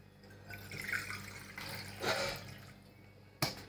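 Water poured from a cup trickles and splashes softly into finger millet idli batter in a home kitchen, with a few quiet drips and a sharp clink near the end.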